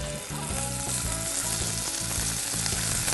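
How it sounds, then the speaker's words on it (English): Scallops sizzle steadily in a hot pan, a loud continuous crackling hiss with no talking. "And you want to hear that sizzle in the pan."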